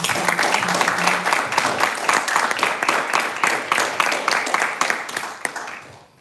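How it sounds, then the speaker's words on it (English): Audience applause at a live poetry event, a dense wash of many hands clapping steadily for about six seconds before fading out at the end. "So can we just give a round of applause?"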